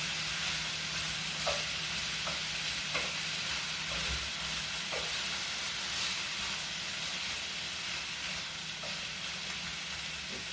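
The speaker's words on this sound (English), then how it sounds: "my onion, and my garlic. Starting to saute." Onion and garlic sautéing in a pan for ratatouille, a steady sizzle and hiss with occasional soft stirring taps, close and continuous without talk.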